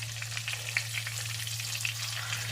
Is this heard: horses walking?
no